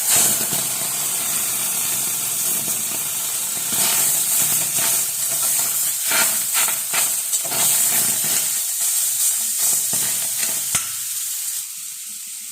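Taro greens go into a hot pan with an ilish fish head and sizzle loudly. Stirring scrapes and crackles run over the steady hiss, which eases toward the end.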